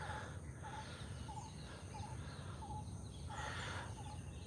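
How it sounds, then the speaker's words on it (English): Birds call in a Colombo cemetery garden at sunrise: short, repeated chirping notes sound at a steady pace against a constant low background hum, moderately distant and fairly faint, with no talking. "listen to a selection of birds and appreciate some of the voices"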